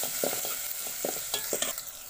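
Whole spices — cloves, black peppercorns, cardamom and cinnamon — fry in hot oil with a steady close sizzle, broken by a few soft stirring scrapes and clinks; no one speaks.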